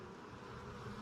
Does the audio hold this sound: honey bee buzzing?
yes